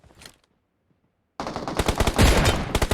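Automatic gunfire in the PUBG Mobile video game: after a brief faint sound and a second of silence, a loud, rapid burst of shots rattles on steadily to the end.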